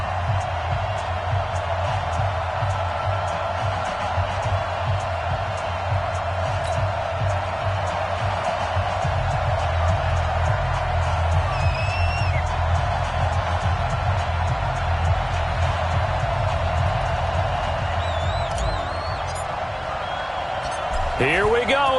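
An NFL football video game stadium crowd at an Oakland Raiders versus Los Angeles Rams match keeps up a steady, dense roar and cheering throughout, under broadcast-style commentary and occasional whistles.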